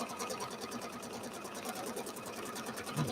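A sewing machine stitches quilt pieces with a fast, even mechanical chatter and a regular pulsing rhythm, close and continuous throughout.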